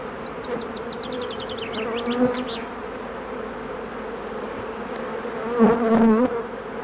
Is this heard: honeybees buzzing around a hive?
yes